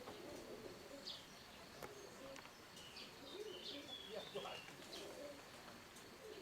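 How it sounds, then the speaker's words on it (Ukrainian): Pigeons coo softly in a loft, with faint chirps and scattered bird calls over a low background, while a person talks nearby. "Ось, Оце голуб'ята."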